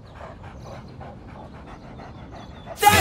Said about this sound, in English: We heard Pierre make a barking noise that sounded like this